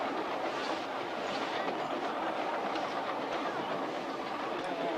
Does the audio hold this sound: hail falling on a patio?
no